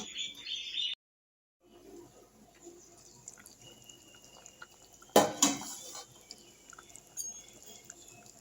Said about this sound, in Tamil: ஒரு மூடியை போட்டு நம்ம மூடி வச்சிடலாம்